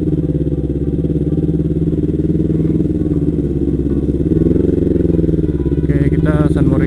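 An older-type Kawasaki Ninja motorcycle engine idles and rumbles steadily up close, a continuous low throb with a slight rev midway and a voice near the end.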